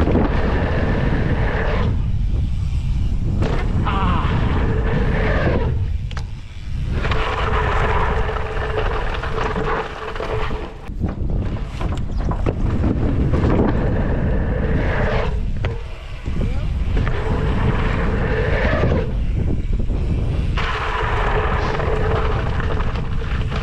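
Strong wind gusts buffet the microphone outdoors at a dirt jump spot, a loud continuous roar with brief lulls and no talking.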